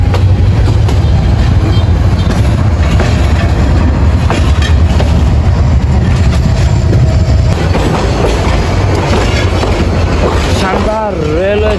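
Rangpur Express train rolling into Bogura railway station, a continuous rumble and clatter of wheels on track heard from aboard, with voices talking over it.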